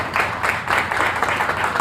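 An audience in a trading-psychology seminar claps steadily in a short, dense burst of applause, close and fairly loud.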